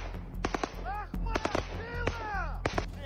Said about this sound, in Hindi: चाहे गोलियां बरसाती राइफल हो,